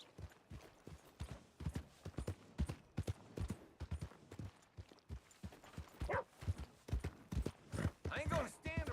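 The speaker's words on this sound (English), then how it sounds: "My horse!" Horse hooves clip-clopping in the Red Dead Redemption video game, a sharp, uneven run of separate hoofbeats, fairly quiet, with spoken voices breaking in toward the end.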